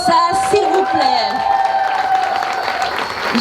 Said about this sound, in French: Applaudissez-la plus fort que ça, s'il vous plaît.